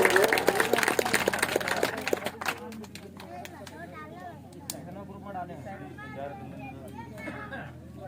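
An audience breaks into loud, dense applause to welcome a speaker at a Sant Ravidas Jayanti gathering. The clapping fades after a couple of seconds, and a voice then speaks over light crowd murmur.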